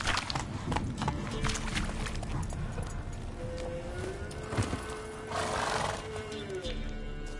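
A horse whinnies and its hooves clatter in The Witcher 3: Hearts of Stone on PS5, a drawn-out neigh set over steady galloping under game music, with a voice spoken briefly over it.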